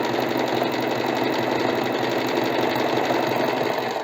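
An Usha Janome Wonder Stitch domestic sewing machine runs steadily, its fast needle chatter and motor hum loud and close, continuous without pause and with no voices.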